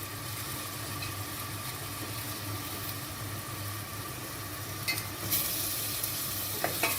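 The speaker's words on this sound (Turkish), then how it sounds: "Güzelce kavuralım bir soğanımızı. Soğanımızı güzelce kavuruyoruz." Onions sautéing in olive oil in a pan as they are stirred for a bean dish, a steady soft sizzle with scraping stir strokes running throughout, a few sharper clinks near the end.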